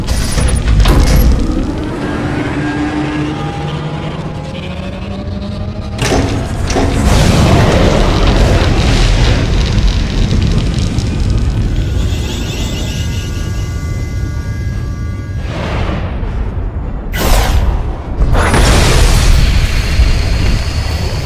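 A superweapon fires in Star Wars: The Old Republic, unleashing a long sequence of loud booming blasts and rumbling explosions with sharp cracks, heavy roar sustained throughout and fresh detonations bursting near the end.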